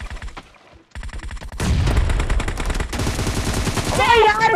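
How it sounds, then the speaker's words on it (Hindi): Gunfire rattles through a team deathmatch video game, with rapid automatic bursts in quick succession that break off briefly and then resume at full loudness. "ओ यार इसको दो हेडशॉट है, मारो इग्निस को।"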